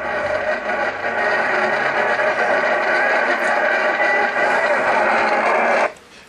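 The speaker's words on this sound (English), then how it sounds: "Put the tuner on AM where there's like nothing whatsoever" Loud, steady AM radio static hisses and crackles from an alarm clock radio tuned to an empty spot on the dial, a continuous wash of distortion that cuts off abruptly near the end.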